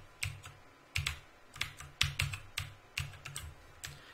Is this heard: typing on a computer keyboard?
yes